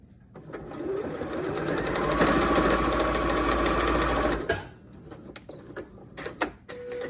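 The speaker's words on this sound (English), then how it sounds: "and then we are going to sew, because that is my favorite thing to do" A sewing machine runs in one steady, loud burst for about four seconds while stitching a fabric tissue holder, then stops, followed by a few faint clicks and handling sounds.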